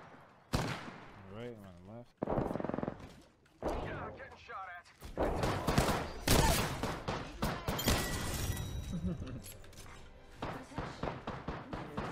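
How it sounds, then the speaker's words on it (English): Gunfire in the video game Apex Legends, with bursts of shots and heavy impacts crackling in irregular clusters, loud and close, mixed with talking voices and game effects. "Taking fire."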